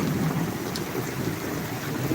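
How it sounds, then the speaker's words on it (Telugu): Heavy rain pours down in Kakinada during a storm, a dense, steady hiss of close downpour that holds at an even level throughout. "ఉరుములు మెరుపులు"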